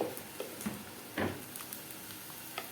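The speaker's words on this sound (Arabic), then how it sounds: "معايا هنا طماطم ضرباها، هنزل بالطماطم كده بعد ما البسله خدت التشويحه الجميله دي." Crushed tomatoes go into a pan of sautéed peas, giving a light sizzle with scattered soft pops and one louder splash of frying, fairly faint and with no voices.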